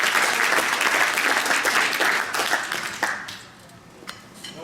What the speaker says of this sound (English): he certainly deserves to be recognized with a round of applause